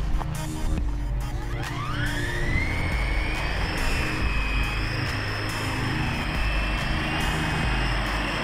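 Blade CX4 radio-controlled helicopter on a test flight, its rotors spooling up into a steady high whine that holds close by, with a low rumble of wind underneath.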